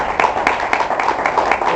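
A church congregation claps for roughly two seconds, a dense crowd of overlapping hand claps with a few sharper beats, close and fairly loud.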